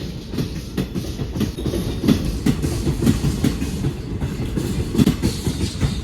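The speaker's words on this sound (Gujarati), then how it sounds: "તમને બધાને બતાવું ટ્રેન જોઈ લો" A train rumbles steadily past close by, wheels clacking in a rapid repeating rhythm over a heavy continuous roar.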